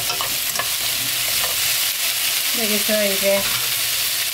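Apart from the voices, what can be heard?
stir-frying cabbage and vegetables in a pan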